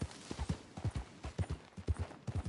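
Horse hooves clip-clop steadily in Red Dead Redemption 2, a close, even rhythm of hoofbeats repeating through the whole stretch with no talk over it.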